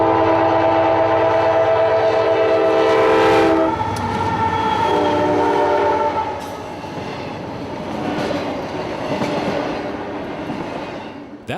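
CSX freight train Q120 passes northbound through Callahan, Florida: a loud sustained horn blast opens, then the rumble and clatter of the passing cars continues steadily and slowly fades.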